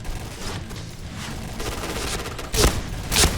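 Shotgun blasts in the Point Blank shooter game, two sharp loud bursts near the end over a continuous backdrop of distant gunfire and game noise.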